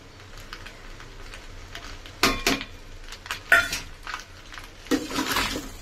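Dry pasta with pepper tossed and stirred in a pan, giving scattered scraping and clinking of a utensil against metal, with a few sharper clanks standing out over a low steady background and no talk.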